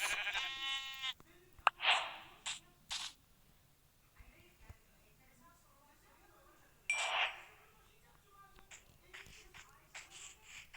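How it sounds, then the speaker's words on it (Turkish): Several bleats from a lamb, one loud quavering call near the start and another a few seconds later, with fainter clicks and rustling in between. "burada bir koyun daha var. Ama bir yavru."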